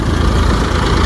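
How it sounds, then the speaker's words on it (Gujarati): A tractor engine idles with a steady, loud, low rumble that runs unbroken throughout, with no voices over it, at a thresher doing cumin harvesting work. "તો મિત્રો હવે જોઈ લઈ ટ્રેક્ટર"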